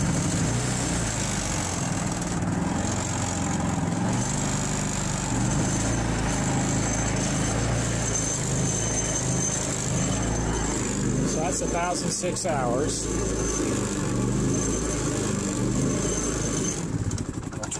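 A Harbor Freight Predator 3500-watt generator with about 1,000 hours of use runs loudly and steadily, a constant droning engine hum throughout while someone speaks briefly over it.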